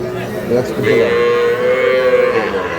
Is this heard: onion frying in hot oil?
no